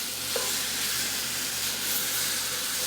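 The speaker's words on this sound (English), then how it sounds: "We'll brown the sausage." Jalapeno sausage browning in a hot pan for potato soup, a steady close sizzle with soft stirring scrapes and no voices.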